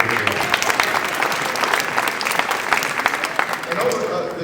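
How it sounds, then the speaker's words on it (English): Steady round of audience applause at a ceremony honouring a teacher and her students, dense even clapping from a sizeable crowd that carries throughout and eases slightly near the end. "Let's give her a nice round of applause."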